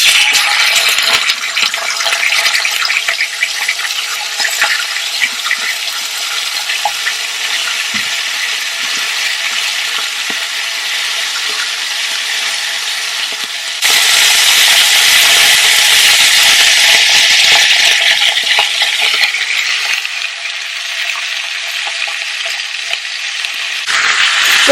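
Protein sizzles and fries in a hot pan for a tagine, a loud, steady hissing crackle that continues without pause and swells briefly midway.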